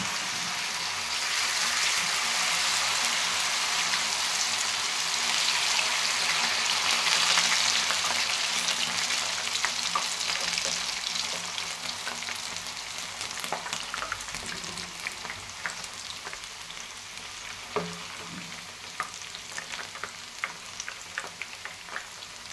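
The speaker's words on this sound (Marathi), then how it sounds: "आता ह्याच्यामध्ये आपल्याला हे ट्विस्टर आपले टाकायचे." Spiral potato twisters drop into very hot oil for deep frying, producing a loud, rushing bubbling roar that gradually thins into a lighter crackling sizzle with scattered pops, heard close and without voices.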